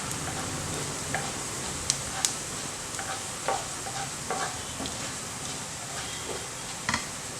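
A teaspoon of urad dal sputters in hot oil for a tomato dal: a steady, soft sizzling hiss runs throughout, dotted with small scattered pops and ticks, quiet and without voices.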